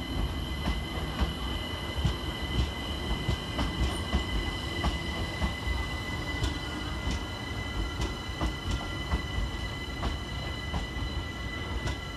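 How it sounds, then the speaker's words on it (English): A London Overground Class 378 electric train, unit 378220, pulls into Clapham Junction to terminate, its wheels clicking over rail joints and squealing steadily as it rolls in close and loud, with no talking. "Arriving to terminate with a London Overground service from Stratford is 378220."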